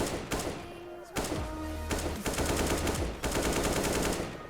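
Rapid automatic gunfire from a CS:GO gun firing under an auto-kill cheat, loud and sustained in dense bursts with short gaps between strings of shots.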